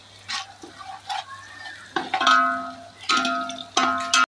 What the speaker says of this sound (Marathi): पात कांदा पात चांगली परतून घ्यायची